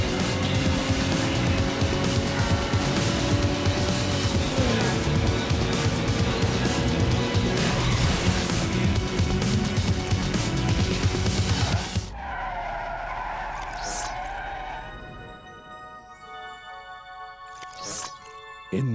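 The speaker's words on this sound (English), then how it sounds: "Need for Speed Underground is a very playable, visually spectacular installment in an ever-growing series." Cars race in the video game Need for Speed Underground, with loud engine roar and long tire squeals and skids filling the first twelve seconds. The game audio then cuts to quieter, unrelated tonal sounds.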